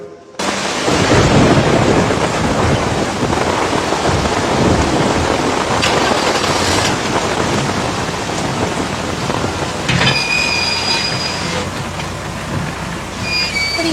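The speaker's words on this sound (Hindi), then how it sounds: "अरे ये बच्चा क्यों खड़ा है यहाँ बारिश में?" Heavy rain pours down steadily throughout a thunderstorm, with rumbling thunder building beneath it; the downpour stays loud and continuous, with no voices.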